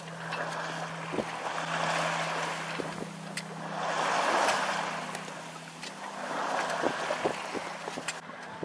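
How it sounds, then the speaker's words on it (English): A Hebridean 10 sailboat moves along under sail, with a steady low hum, wind rush and water swishing past the hull in gentle swells, plus occasional faint ticks and knocks from the boat, heard without any talk. "And here we are sailing along."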